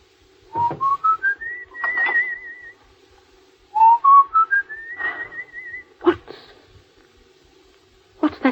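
A person whistles a song in two rising, wavering phrases, close and clear in a quiet room over a low steady hum, with a few short knocks between phrases.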